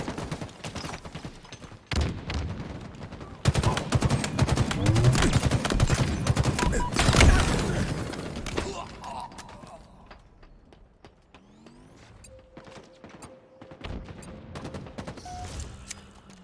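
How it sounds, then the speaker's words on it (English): Video game firefight with bursts of rapid gunfire, loud and dense at first, then thinning into scattered shots and quieter stretches, with talking heard in places. "In a hail of gunfire"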